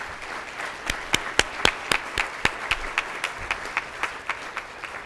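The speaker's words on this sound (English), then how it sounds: "Let's give Laura a round of applause." A small gathering claps for an award recipient at an Unsung Hero recognition event, the applause thin and sparse with distinct individual sharp claps that taper off over several seconds.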